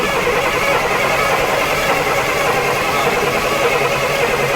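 A Midland Red Leyland National bus engine running after a long idle spell, a loud, steady, rough mechanical roar close by, with no voices.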